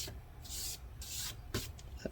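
Scraping old thermal paste off an HP Pavilion G7 laptop part: a few short, dry rasping strokes in separate bursts, close and fairly quiet, with no talking.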